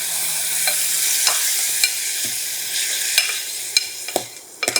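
Finely chopped tomatoes go into a hot ginger-garlic tempering for toor dal, giving a steady sizzle with sharp clinks and scrapes of a ladle stirring the pan, louder taps near the end, close and without speech.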